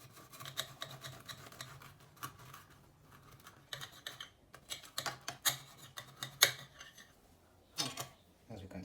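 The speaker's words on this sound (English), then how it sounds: "Then using your bread knife, you cut it and see what wonders are inside it." A bread knife cuts through a homemade sandwich with soft, crisp crunching strokes, quiet and close, in short irregular bursts with brief pauses between them.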